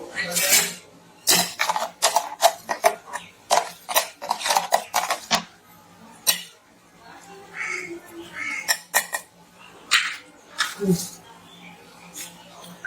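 A metal spoon clinks and scrapes repeatedly against a vessel while mixing watermelon juice with lemon, sharp irregular taps close by, with pauses between bursts and no talking.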